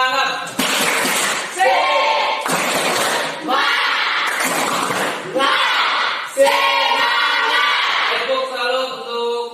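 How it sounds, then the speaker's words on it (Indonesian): A classroom group at a senior high school performs the tepuk semangat rhythmic clapping cheer, with loud bursts of claps alternating with chanted shouting voices in a steady, repeating pattern. "Pak, tepuk semangat."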